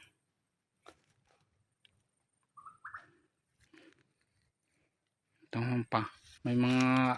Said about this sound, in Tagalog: may mga tunog ng ibon.